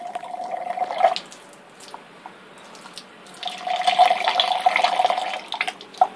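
Water trickles and splashes in bursts from a leaking homemade water pump with a thin straw tube, a thin running stream with scattered drips, close and fairly quiet, pausing briefly before flowing again.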